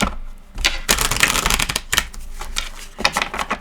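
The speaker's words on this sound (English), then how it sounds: "I better shuffle this deck because I haven't shuffled it in a while." A tarot card deck being shuffled up close, with bursts of riffling and flicking card edges repeating in quick irregular runs for several seconds and no talking.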